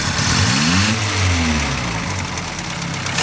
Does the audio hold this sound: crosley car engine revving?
yes